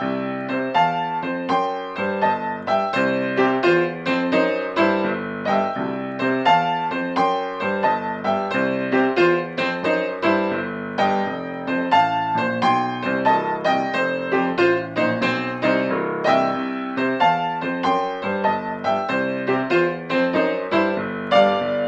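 Solo blues boogie-woogie piano improvising over a 12-bar form, with a steady rolling left-hand pattern under right-hand riffs, loud and continuous throughout with no talking.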